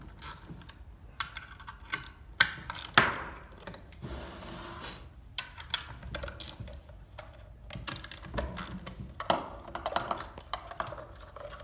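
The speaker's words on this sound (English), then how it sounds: "13mm ratchet spanner." A 13mm ratchet spanner clicks in quick, light bursts while loosening the seal plate bolts on a pump AC motor, faint clicking and small metallic taps scattered through a quiet workshop.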